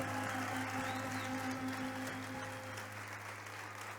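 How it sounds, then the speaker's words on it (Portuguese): A church congregation applauds steadily, a soft wash of clapping held at a distant, faint level for the full few seconds over a low electrical hum. "Você pode dar um aplauso a Jesus por essa igreja?"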